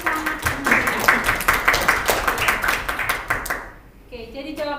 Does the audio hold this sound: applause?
yes